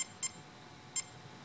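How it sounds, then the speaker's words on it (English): Two short, high electronic beeps from a Mamba ESC in programming mode, spaced under a second apart, faint over a low background hiss. "So you got two beeps, then one beep."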